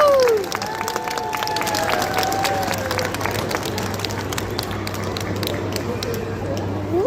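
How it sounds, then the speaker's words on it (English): An indoor sea lion show crowd claps and cheers, a steady wash of applause with a host's voice and a few whoops over it, sustained throughout. "so may please give a big round of applause"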